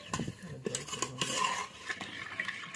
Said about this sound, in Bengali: এইভাবে ডোটাকে ভালোভাবে মিশিয়ে নিচ্ছি আমি